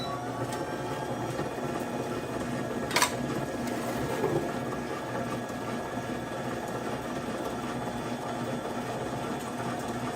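An electric mixer runs on high, beating coffee cake batter with a steady, even motor whir that holds for about ten seconds, with a brief clatter near the start.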